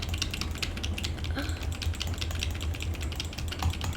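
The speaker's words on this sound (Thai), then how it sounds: "กดคอมด้วย กดเมาส์ด้วย" Rapid, steady clicking of a computer keyboard and mouse during a Roblox ice cream factory game, close and continuous for the whole stretch over a low background hum.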